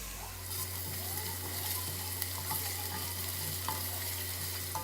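Garlic and ginger sizzle in hot oil in a pan while cooking a kaleji salan, a soft, steady frying hiss with faint crackles and occasional stirring scrapes, no talking, under a low constant hum.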